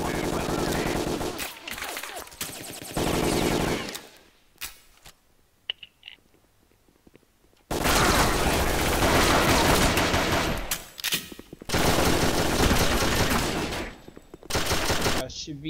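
Gunfire in a shooter video game: loud, dense bursts of automatic fire in several long volleys, separated by short quiet gaps.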